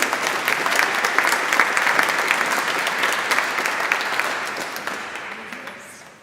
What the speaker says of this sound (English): Give her a little clap.